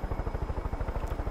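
A steady, rapid thumping of helicopter rotor blades with a low engine drone, continuous and close, in the video game Far Cry 5.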